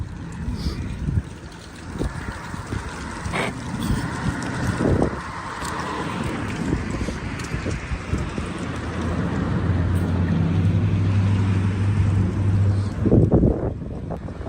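Gusty wind whipping off a building outdoors, a steady roaring rush with microphone buffeting that builds louder toward the end, plus a low engine-like hum in the background.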